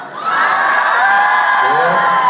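A large rock concert crowd at a Steel Panther show in the UK screams and cheers loudly and continuously, many high shrill voices blending into a sustained roar.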